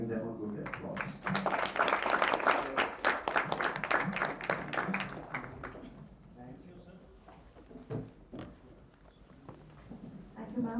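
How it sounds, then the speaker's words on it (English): Applause from a seminar hall audience, a dense burst of clapping that swells and then thins out after a few seconds into scattered claps, with people talking over the tail. "please join me in giving them a good applause."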